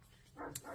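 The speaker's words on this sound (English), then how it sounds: "I'm going to apologize for my dogs in the back." Faint dogs at a rural home give a brief bark or yip in the background, one short burst heard quietly at a distance.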